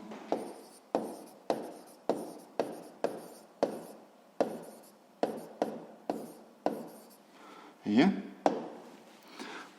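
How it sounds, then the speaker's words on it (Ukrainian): Handwritten physics notes on a school force problem: a pen scratching across paper in a quick run of short strokes with brief pauses, close and clear, with occasional soft speech. "ми це записали"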